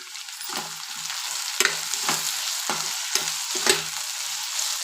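Curry leaves sizzle and crackle in hot oil in a pan with vegetables, a steady close frying hiss broken by several sharp pops and stirring scrapes.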